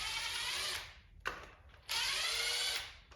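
A power driver spins a Torx bit to unbolt the front faceplate of an LS engine, two close whirring bursts separated by a short click, alone and fairly quiet.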